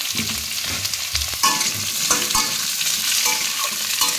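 Papaya and potato pieces frying with salt in a little oil, a bright steady sizzle with frequent scraping stirs and clinks of a spatula against the pan, close and uninterrupted by speech.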